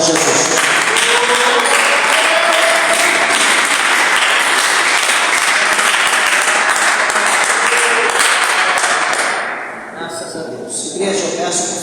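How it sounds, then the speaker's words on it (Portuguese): Church congregation giving a loud, dense round of applause for Jesus during a service, many hands clapping continuously and close, with cheering voices mixed in, then fading abruptly near the end as a few claps and murmurs linger. "dê uma salva de palmas para Jesus"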